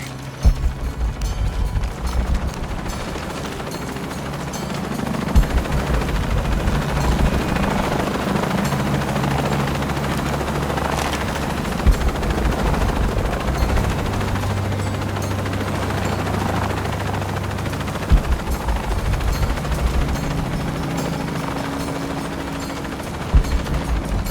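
A helicopter in Shadow of the Tomb Raider thrums steadily and loudly with a deep rotor drone throughout, mixed with scattered gunfire bursts and occasional thumps.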